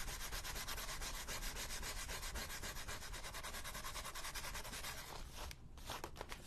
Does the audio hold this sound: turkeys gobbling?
no